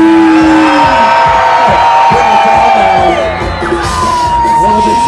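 Audience screaming and cheering loudly at a Disney California Adventure block party show, sustained crowd yelling under a host's amplified voice and music.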